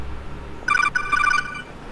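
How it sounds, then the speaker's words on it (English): An old custom phone ringtone plays a short, bright electronic melody of repeated beeping tones. It lasts under a second and sounds clear and close against quiet background noise. "It's like the oldest custom ringtone on the internet"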